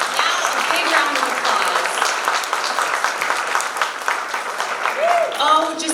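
An audience gives a round of applause at an Armenian Genocide education event, with dense clapping throughout and a voice speaking over it near the end.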